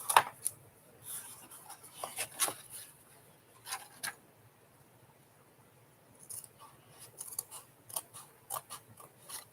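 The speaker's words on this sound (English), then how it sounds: "I'm just cutting." Scissors cutting paper while making a box, quiet crisp snips and slicing strokes in uneven bursts with pauses between, close up and alone without talking.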